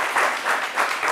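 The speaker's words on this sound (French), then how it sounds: "Parce que ça s'applaudit." An audience at a Miss Côte d'Ivoire pageant claps in a brief, loud burst of applause, the clapping swelling in quick waves.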